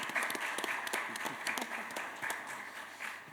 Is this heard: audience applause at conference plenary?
yes